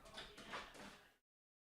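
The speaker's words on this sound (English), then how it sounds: "That's my dog scratching on the door." A pet dog scratches at a house door, giving about 1.2 seconds of faint, rough broadband scraping strokes that stop abruptly, heard alone without talk.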